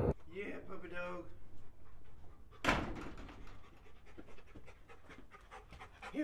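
A dog pants rapidly nearby on a farm, the quick rhythmic breaths running under a person talking, with a sharp door-like knock partway through.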